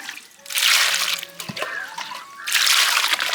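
Radishes, peeled for a village curry, being washed by hand in a container of water: close splashing and sloshing in two louder bursts with a quieter stretch of dripping and handling between, no voices.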